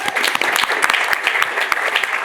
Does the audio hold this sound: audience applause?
yes